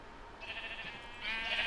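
Sheep in the video game Minecraft bleat twice in quick succession, a short nasal cry followed by a louder, longer one, close and clear with no talking.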